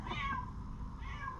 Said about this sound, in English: That's our cat, Mikey.